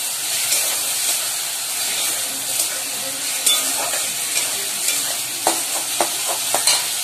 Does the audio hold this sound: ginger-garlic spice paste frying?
yes